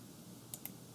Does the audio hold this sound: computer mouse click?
yes